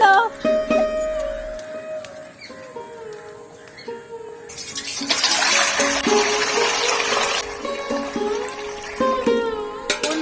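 Water poured into a metal basin in a home kitchen before washing amla: a few seconds of steady rushing splash rise over light background clatter and faint chirps, then stop abruptly.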